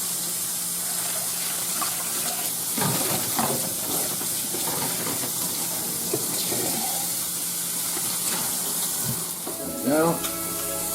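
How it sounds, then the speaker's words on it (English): A tap runs steadily over a dish being washed out after holding raw meat, a constant rushing spray with clinks and splashes as it is handled, and a voice briefly heard near the end. "so I'm gonna wash this out because it's touched raw meat"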